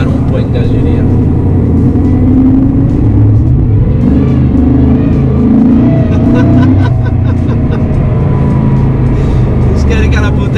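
A Mercedes-Benz SLR McLaren's engine roars steadily and loudly inside a tunnel, a heavy rumbling drone from the cabin with shifting revs and a voice speaking over it.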